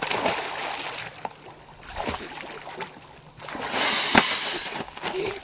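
A 7-year-old child in an inflatable life vest goes into the water, with splashing and sloshing bursts rising and falling over several seconds, the heaviest surge near the end.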